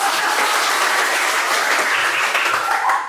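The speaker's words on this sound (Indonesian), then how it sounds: "Tepuk tangan." A class of students in a religious education lesson applauds together: dense, even clapping that stays loud and steady for about three seconds before it starts to tail off.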